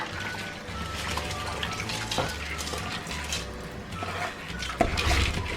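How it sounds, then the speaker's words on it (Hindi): Rice being poured into a pot of boiling water while cooking chicken tikka biryani, a steady rushing patter of grains and bubbling water with faint clinks of utensils against the pot. "पानी को बॉयल आ गया, हम इसमें चावल डाल देंगे।"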